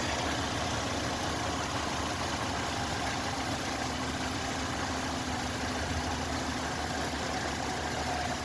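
A car engine idles steadily after a universal O2 sensor install, check engine light off, with a constant low rumble and faint high whine, unchanging throughout with no voices.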